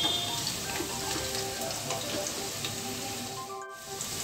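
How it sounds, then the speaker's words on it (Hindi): Onions browning in a pan for veg biryani, a dense steady crackling sizzle heard close, with a brief dip near the end and no one speaking. "जब तक प्याज हमारी अच्छे से ब्राउन नहीं हो जाएगी उसको हमें जब तक इसको अच्छे से भूनना है"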